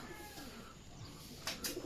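Racing pigeons coo softly at a distance during training in San Isidro, Nueva Ecija, with a couple of brief calls near the end over faint outdoor background noise.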